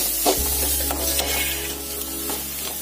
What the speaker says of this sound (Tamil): எல்லாத்தையும் சேர்த்து நல்லா வதக்குங்க.